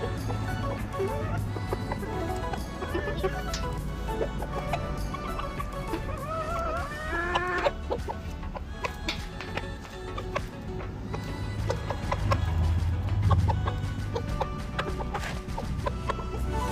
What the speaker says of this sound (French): ça fait une petite semaine que j'ai mis le coq avec mes 2 poules.